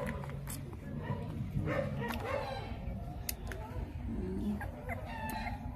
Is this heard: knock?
no